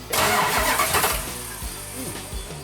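A 1967 Plymouth GTX 440 Super Commando V8 cranks via remote starter and catches, roaring up loudly before settling into a rough, rumbling idle close by.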